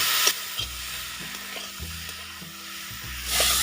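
Fried prawns and pointed gourd get stirred through a sizzling masala in a pan, a close hiss punctuated by rhythmic low scraping and knocking spoon strokes, with the sizzle swelling again at the end.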